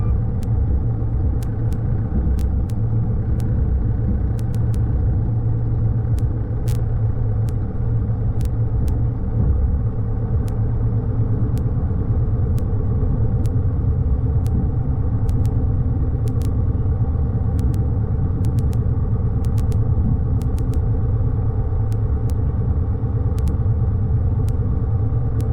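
A biplane taxis toward the hangars, its engine giving a steady, loud, low rumbling drone heard from the cockpit, unbroken for the whole stretch with faint clicks over it.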